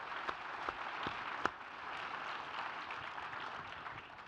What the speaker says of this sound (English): Let's give these three another round of applause.